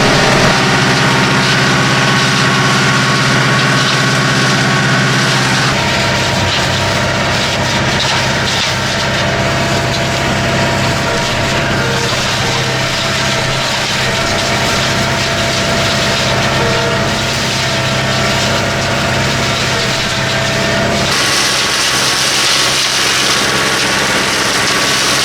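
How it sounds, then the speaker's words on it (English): Tractor engine running steadily during hedge trimming in the countryside, a loud continuous droning rumble with a shift in tone partway through and again near the end, no talk. "Let's get on with the hedge trimming anyway."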